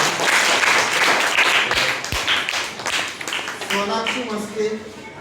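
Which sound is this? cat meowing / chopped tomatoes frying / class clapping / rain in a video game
class clapping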